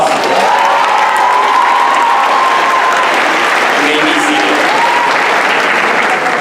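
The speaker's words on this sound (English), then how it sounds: "Please give them a round of applause." An audience at a school graduation ceremony bursts into loud, sustained applause that fills the hall, with cheering and children's shouts mixed into the steady clapping.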